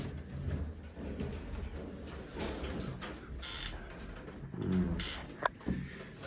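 Soft pigeon cooing over a low, steady background murmur, with a few brief rustles and a sharp tap near the end.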